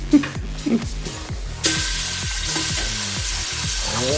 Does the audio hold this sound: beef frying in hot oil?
yes